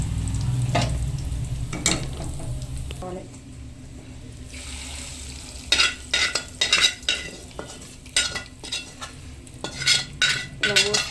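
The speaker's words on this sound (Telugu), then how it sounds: "ఇప్పుడు వేడి నూనె పోసినాం కదా" Hot oil poured over an eggplant dish sizzles in a kitchen, followed by sharp rhythmic scraping and stirring clatters of a utensil in a pan, with a low steady hum beneath.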